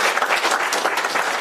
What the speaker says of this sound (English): So we'll give her a round of applause even though she couldn't be here.